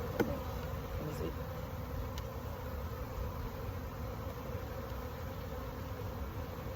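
Honey bees buzzing in a steady, dense drone during a spring hive inspection, with frames being lifted from the hive and a couple of faint knocks.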